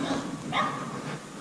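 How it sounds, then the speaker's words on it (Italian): Bark of a very small dog outdoors, a single sharp yip-like bark near the middle over steady background noise, fairly close and moderately loud. "Ma è un cagnolino alto 2 cm!"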